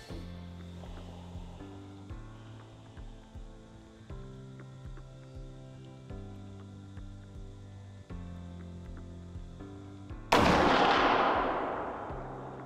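A single loud gunshot from deer hunting cracks out near the end and decays into a long echoing tail, after a quiet stretch of low steady hum and faint thumps.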